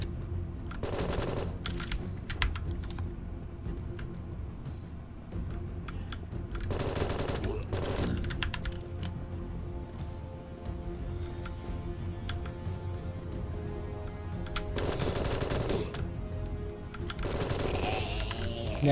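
SMG gunfire in the video game BITGUN, repeated rapid bursts of shots in several separate volleys over a steady game soundtrack, moderately loud and close.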